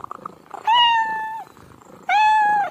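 Karma and Mantra, pet cats, heard as two drawn-out, clear meows close up, each lasting under a second, with a soft purr running underneath.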